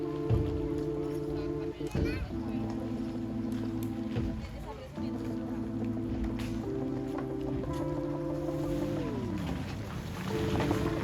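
A river ferry carrying a 4x4 vehicle, with a steady droning motor hum whose tones shift in pitch, light knocks and clatter on top, and a voice speaking over it.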